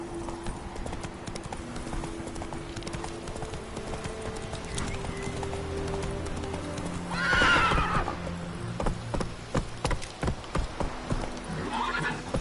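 Roach, the horse in The Witcher 3 video game, gallops with a steady, loud clip-clop of hooves, broken midway by a sharp whinny and continuing with quick hoofbeats under game music and effects.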